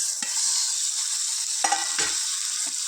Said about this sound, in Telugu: ఇది ఒక టెన్ మినిట్స్ చక్కగా ఆయిల్లో ఫ్రై చేసుకుందాం